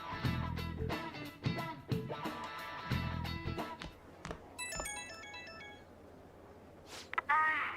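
Smartphone notification and ringtone sounds in the game Persona 5 Royal: short chimes and a rising run of electronic beeps, separated by spoken dialogue and ending in a bright trill.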